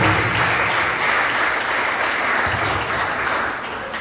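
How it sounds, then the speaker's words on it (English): An audience at a law (LLB) finalists' event breaks into steady, full applause, dense clapping held at an even level before easing off near the end. "A round of applause."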